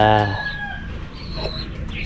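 A rooster crows once at the start, a drawn-out harmonic call, followed by softer background clucking and farmyard noise.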